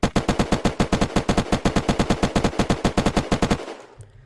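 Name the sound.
gunfire from Maplestrike and Zubeknakov guns in video game Unturned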